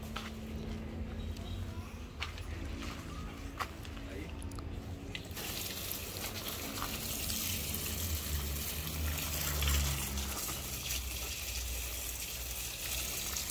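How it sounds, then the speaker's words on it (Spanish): Water splashing and trickling while garden plants are watered outdoors, a steady broadband wash that grows slightly louder partway through, with faint background voices. "Vamos a empezar a regar las plantitas."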